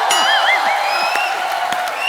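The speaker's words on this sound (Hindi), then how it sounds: "जोरदार तालियों से स्वागत कीजिए सोनाक्षी सिन्हा और जॉन अब्राहम का।" Studio audience at a comedy talk show breaks into loud, sustained applause and cheering with whoops, welcoming Sonakshi Sinha and John Abraham; dense crowd noise fills the whole stretch.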